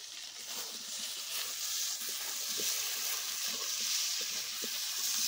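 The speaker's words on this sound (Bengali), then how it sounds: "এখন মশলাগুলো ভালো করে ভেজে নিচ্ছি।" Spice paste of ginger, garlic, cumin and Kashmiri chili powder frying in a pan, a soft continuous hiss with light scattered crackles and stirring, fairly quiet and without speech.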